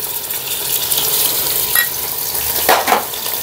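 Chopped garlic and ginger frying in a pan for Punjabi bhuna qeema, a steady close sizzle with brief stirring scrapes toward the end, no voices.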